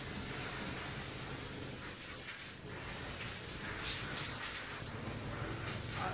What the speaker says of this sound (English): They do a good job, and they spray it on really well.